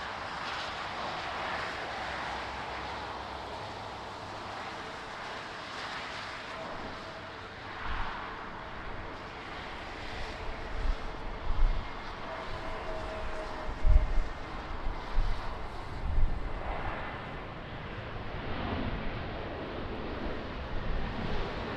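A fixed-wing aircraft at Lisbon Airport in crosswind conditions: a steady, distant engine roar over wind noise, with occasional heavier thumps and rumbles building toward the middle.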